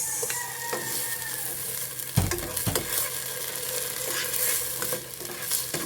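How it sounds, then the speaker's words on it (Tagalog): Onion and tomato fry in a pan for pork rib sinigang, a continuous close sizzle broken by scraping stirs and a few sharper knocks of the utensil against the pan. "Halo-haluin lang natin hanggang sa light brown ang ating sibuyas."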